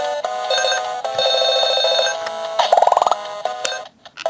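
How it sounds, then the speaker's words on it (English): A handheld LED Tetris game gives off bright electronic beeps and ringing tones, including a fast rising run of chimes as a piece drops, followed by a short silence. "you have that annoying ringing sound whenever you drop the pieces"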